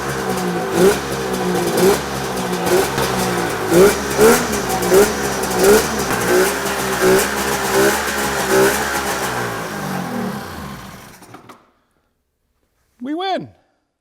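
A 1990 Polaris Indy 650 snowmobile engine runs loud and close for about eleven seconds, revving in repeated surges over a steady rough drone. It then cuts out to silence, and a brief high chirp follows near the end.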